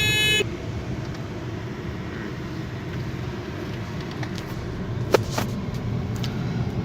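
A Suzuki WagonR in third gear drives along a smooth paved road, with a steady cabin rumble of engine and tyres and a single sharp click partway through.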